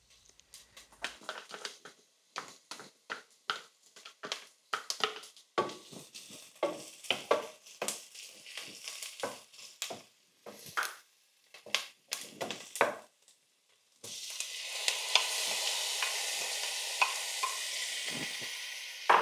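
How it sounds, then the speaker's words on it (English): Garlic and diced pork frying in a pan for Spanish pork stew, a series of scraping stirring strokes over a soft sizzle, then a loud steady sizzle near the end, close up with no talking. "Cook until all sides of the pork are browned to lock in the juices."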